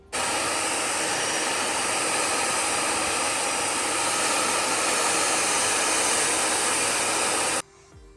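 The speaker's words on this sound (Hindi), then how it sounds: "मेरे पास पैड ड्रायर है तो उसकी हेल्प से मैं इसको पूरा जल्दी से ड्राई कर दूँगी" A pet hair dryer blows on a five-month-old Shih Tzu puppy, a loud steady whooshing hiss running unbroken for several seconds before cutting off abruptly near the end.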